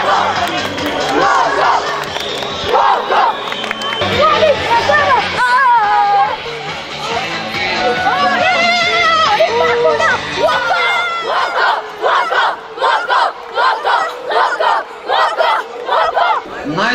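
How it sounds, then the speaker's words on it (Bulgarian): Crowd at a football tournament final cheering, shouting and applauding for the coach, a loud sustained roar with rhythmic chanting toward the end and an announcer speaking over it. "Аплодисменти за треньора Апостол Костадинов"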